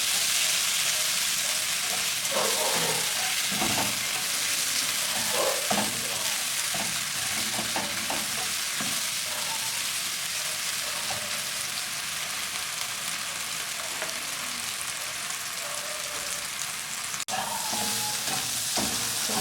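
Hotdogs frying in a pan for a Filipino-style spaghetti, giving a loud, continuous sizzling crackle with intermittent spatter pops and occasional stirring scrapes over about twenty seconds.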